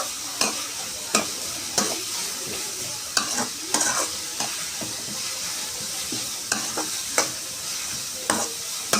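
Sliced onions sauté in a hot pan for Kerala-style beef varattiyathu, a steady sizzle running throughout while a spatula scrapes and stirs in regular, close strokes roughly every second.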